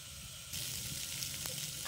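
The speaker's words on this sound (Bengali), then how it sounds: "আদা রসুনকে ভালো করে দিয়ে ভাজবো আলুটা" Potatoes frying with ginger-garlic paste for a home-style pond crab curry, a steady sizzle that jumps louder as fresh paste hits the hot oil, with a brief stir clink.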